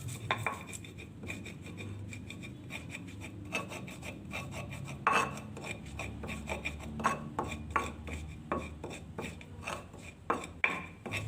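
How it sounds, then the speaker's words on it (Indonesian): Toasted dry spices are ground in a stone mortar for beef rendang, giving repeated gritty rasping and rubbing strokes, close and clear, with sharper knocks growing more frequent toward the end. "kemudian saya masukkan dalam ulekan, kemudian akan saya haluskan dulu sampai halus"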